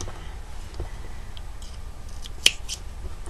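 Scissors give one sharp snip while cutting off a crochet yarn tail, a single close click over quiet room background.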